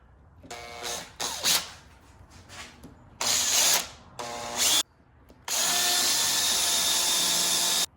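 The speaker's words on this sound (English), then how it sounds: "I bought a pile of new drill bits." A hand drill with new bits whines in several bursts, short runs at first, then one long steady drilling run at the end, close and loud, with quiet gaps between.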